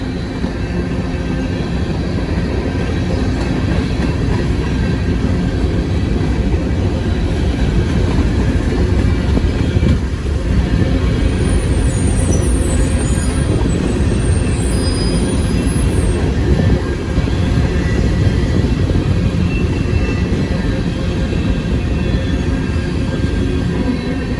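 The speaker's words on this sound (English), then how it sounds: "That's a northbound empty grain train." A long northbound empty grain freight train rumbles past steadily and loudly for a long stretch, with wheels rattling and brief high metallic squeals partway through.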